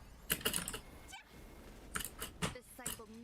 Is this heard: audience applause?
no